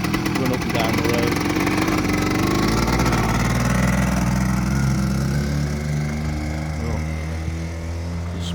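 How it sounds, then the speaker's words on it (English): Kawasaki KE 100 two-stroke motorcycle engine running loud and close, a steady buzzing drone that slowly eases in pitch, with a voice faintly under it. "It's a KE 100 that we done earlier on this year. I think I'm just going to get a little rev"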